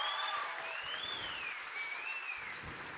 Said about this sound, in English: Give Luke a round of applause, you guys.